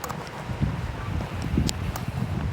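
Wind gusting hard during a winter storm around a house, a rough, blustery roar with rustling bursts across the short span, and no one talking.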